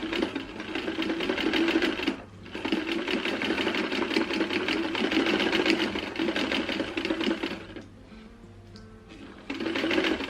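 Sewing machine stitching along the armholes of a vest, a loud, close, rapid mechanical whir in sustained runs with brief pauses between bursts.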